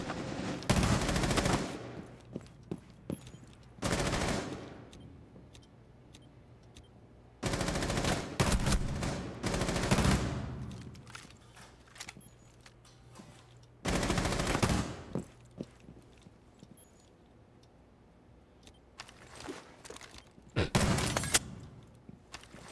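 Bursts of automatic gunfire from a first-person shooter video game, several loud sustained volleys separated by quieter gaps with a few isolated shots and thuds.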